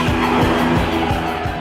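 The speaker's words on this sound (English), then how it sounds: "this is a 4-door saloon car, but it sounds utterly magnificent" A Maserati four-door saloon car pushed hard on a racetrack, engine roaring loudly while its tyres squeal and skid in a brief, continuous burst.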